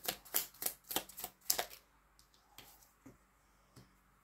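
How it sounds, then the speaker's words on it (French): A tarot card is drawn from a deck, starting with a quick run of close, crisp card flicks and shuffles, then a few fainter isolated taps and slides in a quiet room. "on va vous prendre une petite carte conseil pour aujourd'hui"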